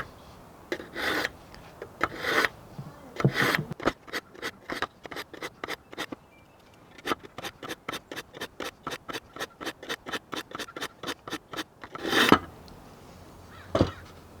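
A Japanese kitchen knife is drawn repeatedly across the fine side of a cheap pull-through sharpener, giving a steady series of crisp rasping strokes with brief pauses, close and clear.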